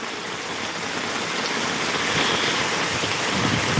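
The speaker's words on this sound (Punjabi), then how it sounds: "ਤਰਨਤਾਰਨ ਜ਼ਿਲ੍ਹੇ 'ਚ ਬਹੁਤ ਜ਼ਿਆਦਾ ਮੀਂਹ ਪੈ ਰਿਹਾ ਵੇਖੋ" Heavy rain pours down in Totian village in Tarn Taran district, a dense, even hiss of drops on surfaces that holds steady and close throughout, with no voices.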